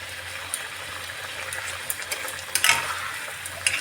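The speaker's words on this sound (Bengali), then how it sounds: "এবার আমি ভাজা চিংড়ি মাছগুলো দিয়ে দিচ্ছি" Fried prawns go into a chilli prawn sauce in a pan, giving a steady soft sizzle with occasional sharper crackles and pops, close and moderately loud.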